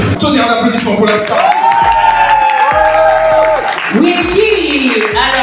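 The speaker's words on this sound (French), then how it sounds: "Tonnerre d'applaudissements pour l'instant." Comedy festival crowd in Mantes-la-Jolie, France, loudly cheering and applauding while someone speaks over the noise with pitched, shouting voices.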